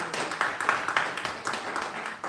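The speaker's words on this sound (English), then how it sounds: "So y'all give them a round of applause for just showing up." Applause and scattered clapping from the audience at a township meeting, moderately faint and sustained for a couple of seconds with distinct individual claps.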